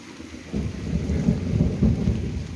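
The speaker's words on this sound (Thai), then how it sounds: "ยายพินเปียกฝนแล้วเนี่ย" Steady rain falls outdoors during a thunderstorm, with a low rumble of thunder swelling and rolling beneath the downpour, fairly close and loud, no voices.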